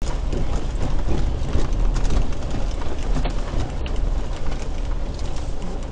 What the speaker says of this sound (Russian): Что это было? Птица.